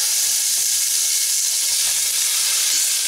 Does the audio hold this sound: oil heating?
yes